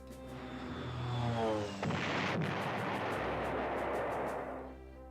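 Tactical bombing run in the World War II strategy game Panzer General on PlayStation 1, with a low rumbling explosion and aircraft-like roar that swells and fades over several seconds, no talking.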